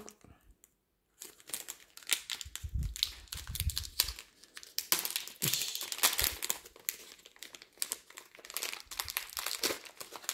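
Plastic packaging around purple diamond painting supplies crinkles and tears in repeated close bursts, with loud rustling handling sounds nearly throughout after a short silent start, and a voice speaking now and then.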